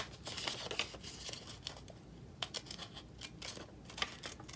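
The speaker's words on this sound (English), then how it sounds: "All I would suggest is fold it in half to get your scissors in there." Scissors snip around a stamped paper shape, a run of quick crisp cuts and crinkles close by, irregular and fairly quiet, with no one talking.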